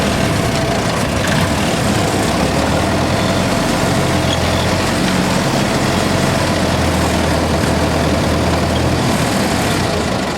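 A 1924 Dodge 116 Tourer engine running steadily while the car is turned by hand without power steering, a loud, constant low rumble with road and wind noise throughout, no talking.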